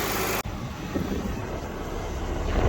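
Radiator cooling fans on a Kia Sedona kicking on after a fan replacement, a loud steady whooshing roar that starts abruptly and holds constant up close.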